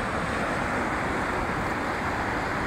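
Ocean surf at Malibu Beach in Los Angeles rolls in as a dense, constant roar of breaking waves, with wind buffeting the microphone and no talking.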